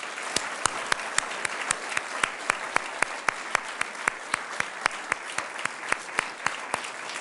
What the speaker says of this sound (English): Let's have one round of applause for all our nominators and all of our winners.